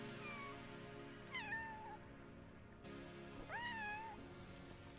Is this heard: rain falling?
no